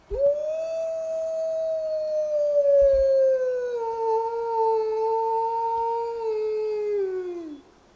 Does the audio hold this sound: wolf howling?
yes